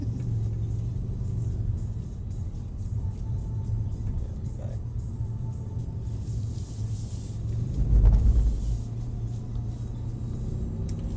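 A Mercedes-AMG 63 engine rumbles low and steady from inside the cabin while the car drifts round, swelling into a brief rev midway before settling back, with some talking over it.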